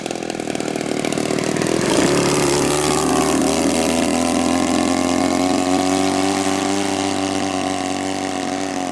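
Engine of a giant 2.5 m Primary 100 RC plane fitted with a new CDI unit, droning steadily at low throttle on a slow approach, loud and continuous with a slight drop in pitch early on.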